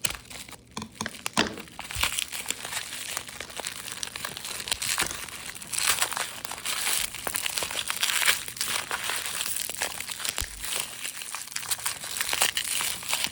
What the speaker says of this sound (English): I'm just gonna snip this open